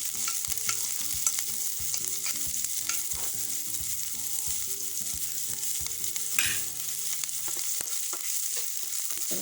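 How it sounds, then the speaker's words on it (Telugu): Chopped onion and green chilli fry steadily in a pan, a dense continuous sizzle with scattered pops and spatters, close and fairly loud throughout with no voices. "అలాగే ఉల్లిపాయ ముక్కలు పచ్చిమిరపకాయ ముక్కలు కొంచెం కచ్చపచ్చ వేయించుకుందాము"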